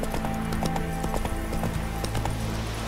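Roach, a horse in The Witcher 3, trots with a steady, close clip-clop of hooves over a sustained tonal background, with a faint whinny-like edge now and then.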